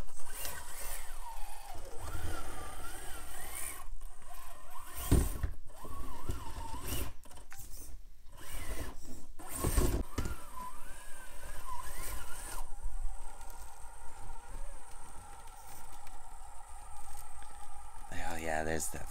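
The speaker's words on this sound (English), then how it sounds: "It still has quite a whine to it. Probably the transmission, all that stuff working in there." A slammed FMS FCX24 Power Wagon RC crawler truck with a Furitek brushless conversion and extended wheelbase crawls slowly, its transmission giving off a steady, wavering whine with small clicks and bumps while someone talks over it.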